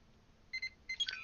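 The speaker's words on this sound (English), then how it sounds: "Oh, and that's my phone." A mobile phone gives a short notification chime of two quick tones and then a brighter rising flourish. It is faint, with no talking.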